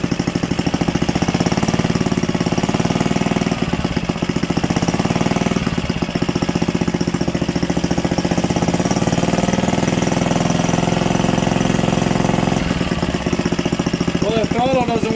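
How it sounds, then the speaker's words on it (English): A barn-found 1951 Briggs engine on its first run, held at a low idle, gives a steady, close, loud putter with an even pulsing rhythm that continues unbroken throughout. "Want to keep it at a nice low idle."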